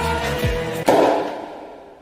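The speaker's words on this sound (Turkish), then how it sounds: "Balon patladı." A single sharp balloon pop cracks out near the start, loud and close, followed by a brief fading rustle.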